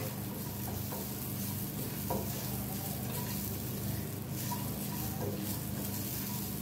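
Grated coconut and sesame seeds being stirred in a hot pan, giving a steady low sizzle with soft scraping and stirring strokes, close up and even throughout, with no talking.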